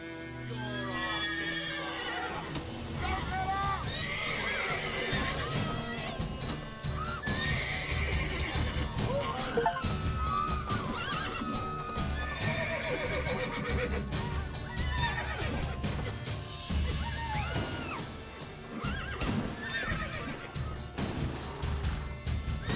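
Horses in The Witcher 3 neigh and whinny repeatedly amid hoof clatter and crashing combat sounds, loud and busy throughout.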